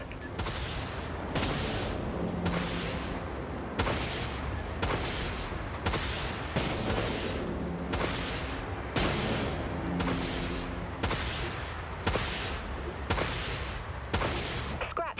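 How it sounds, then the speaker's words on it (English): Vulture missiles launch in Dreadnought as a steady series of regularly spaced whooshing blasts, about one every second, over a dense bed of ship and battle noise. "Launching Vulture missiles."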